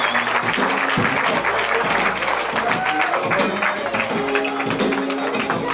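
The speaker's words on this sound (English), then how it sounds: "Clap your hands." A comedy club audience at the Funny Bone breaks into sustained applause after a stand-up set, a dense wash of clapping with cheers, while a host's voice calls out over it.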